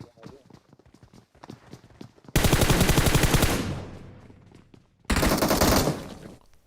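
Loud automatic gunfire from PUBG erupts in two long bursts of rapid shots, preceded by quieter footsteps and movement sounds in the game.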